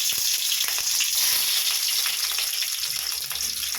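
Garlic sizzles and fries in hot oil in a pan for karandai pickle, a dense, loud, steady crackle close up throughout.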